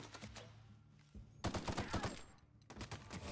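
Rapid video game gunfire rattles out in bursts, with a pause, then a dense loud volley and a further string of shots at the end, all close and continuous.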